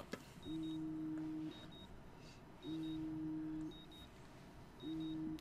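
Repeating phone alarm from the video game Life Is Strange, a steady electronic tone that sounds in three long pulses with brief gaps, each carrying a faint high beeping figure, loud and close with no talk.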